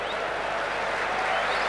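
Football supporters at a PAOK home match against Beitar Jerusalem applaud a PAOK player as he is substituted off, a steady broad wash of crowd clapping and noise throughout, fairly loud and continuous with no distinct individual claps.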